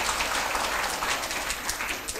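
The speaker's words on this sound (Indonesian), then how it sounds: "Tepuk tangan buat kita semua." Steady applause from an audience at a morning community gathering of officials and early-childhood educators, a dense even wash of clapping held at moderate loudness for the whole stretch with no voices over it.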